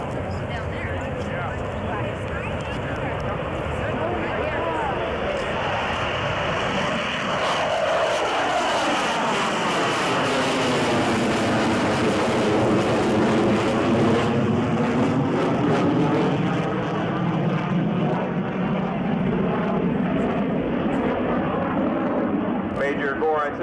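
A US Air Force F-15 Eagle jet roars loudly and continuously through an airshow maneuver at the 1991 Avoca Airshow, its engine tone sweeping down and back up as it passes, with no talk over it.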